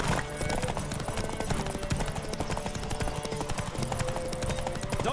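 Hoofbeats of a horse galloping flat out in a Witcher video game race, a steady rapid clip-clop running unbroken for the whole stretch with game music underneath.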